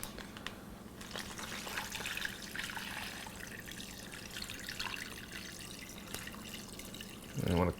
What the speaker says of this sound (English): we're going to pour in the brine.